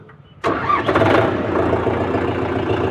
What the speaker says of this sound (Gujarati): એકદમ સ્મૂથ સ્ટાર્ટિંગ છે આરામથી સ્ટાર્ટ થઈ જાય ટ્રેક્ટર